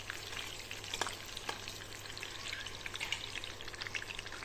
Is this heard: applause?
no